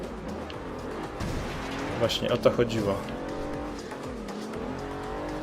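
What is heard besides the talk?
car bumping into other cars in Forza Horizon 2 video game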